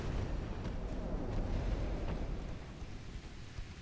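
Heavy 13-inch naval shells striking a battleship in a Jutland-era naval battle game, a continuous deep rumbling roar of impacts and booms, loud and dense throughout with no talking.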